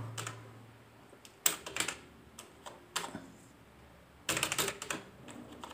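Text is typed on a computer keyboard in short bursts of quick key clicks separated by pauses, close and fairly quiet, with no talking.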